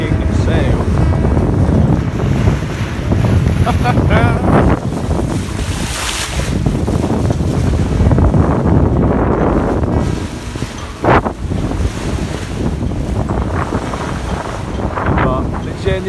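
A sailboat flying a genoa, staysail and main while crossing the Bay of Biscay at about seven to eight knots, with loud continuous wind buffeting and rushing water around the hull and voices talking beneath it.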